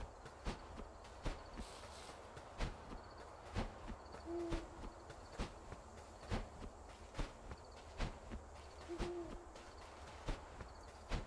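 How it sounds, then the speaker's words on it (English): An owl in the video game Death's Door gives a soft, faint hoot twice, spaced several seconds apart. Regular footstep-like taps keep time beneath it in a quiet, sparse scene. "there's an owl here"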